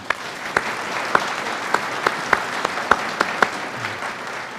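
Sparse, separate hand claps ring out at a police academy graduation ceremony, about a dozen sharp claps spread unevenly over a quiet room hum rather than a dense ovation.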